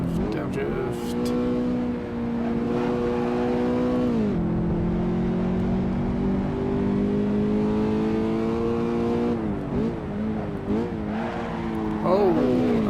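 A slow car lapping the Nürburgring, its engine revving loudly and close, pitch sliding down through downshifts with brief blips near the end, while a driver talks over it.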